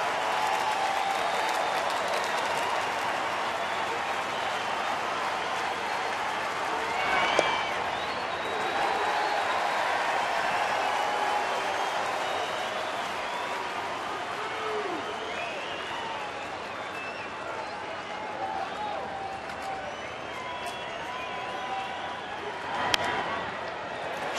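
38,000 baseball fans at a Tigers-Mariners game in Detroit stand and cheer with sustained applause for the final out, a dense roar that holds steady throughout under a commentator's voice.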